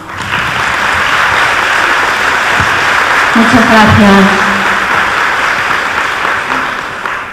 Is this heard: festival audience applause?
yes